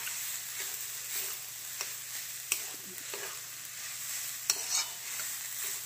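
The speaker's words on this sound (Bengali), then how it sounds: "বাঁধাকপিটা ভাজা ভাজা হয়ে গেছে।" Shredded cabbage filling with chilli stirred and fried in a pan, a steady soft sizzle broken by several sharp scrapes of the spatula, close and with no talking.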